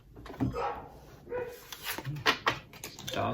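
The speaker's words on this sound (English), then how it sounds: "Dogs in my hallway." Dogs bark and yip in an indoor hallway, with several sharp barks and whimpers at moderate distance over a faint room background.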